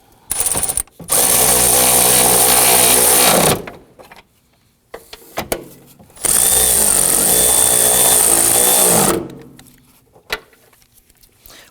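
A cordless power driver tightening screws on parking sensors of a 2003-2014 Volvo XC90 whirs loudly in two long bursts of a few seconds each, with short trigger blips and small handling clicks in the pauses between them.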